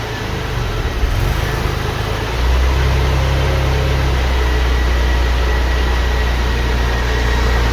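A Porsche engine idles close by with a steady low hum; partway through the rumble deepens and settles into an even, continuous drone.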